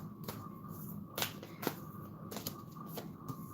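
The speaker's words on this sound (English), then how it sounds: "I'm going to do a nice little shuffle" A deck of cards shuffled for a card reading, a few quick sharp riffling bursts, quiet and close in a still room with no talking.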